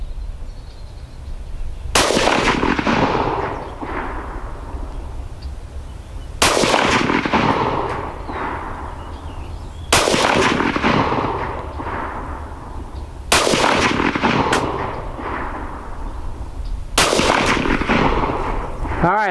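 Ruger 57 pistol firing 5.7x28mm Lehigh Defense loads at an outdoor range, five loud sharp cracks spaced a few seconds apart, each with a ringing echoing tail, with faint background noise between shots.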